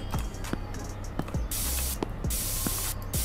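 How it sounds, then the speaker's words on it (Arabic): Repeated bursts of air freshener spray in the video game Internet Cafe Simulator, several hissy puffs of varying length, loud and close, over light soft knocks in the background. "معطر جو."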